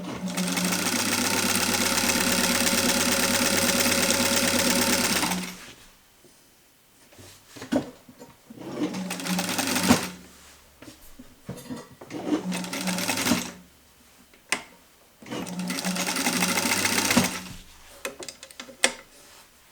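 A vintage Sewmor 606 sewing machine stitches in a loud continuous whirring run, then gives several shorter bursts of mechanical clatter with quiet gaps and small clicks between them.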